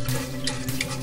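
Tap water runs into a bowl or sink while lentils are rinsed by hand, a steady close splashing stream with small sloshes and stirring, no voices.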